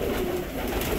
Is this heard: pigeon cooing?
yes